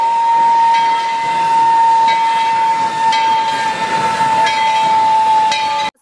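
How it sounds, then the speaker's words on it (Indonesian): Steam whistle of a Thomas toy train, a steady piercing toot with hiss held loud and alone for about six seconds before cutting off abruptly. "Wih, lihat, teman-teman, ada kereta api Thomas."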